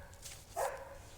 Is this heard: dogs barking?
yes